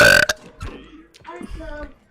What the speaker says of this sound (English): here's a big burp for you guys